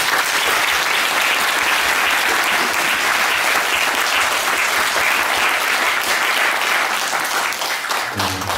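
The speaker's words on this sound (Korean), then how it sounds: "우리 서로에게 감사의 박수 하나님께 모이스 올려드리겠습니다." A church audience applauds after a gospel choir concert, loud sustained clapping from a full crowd throughout, easing slightly at the very end.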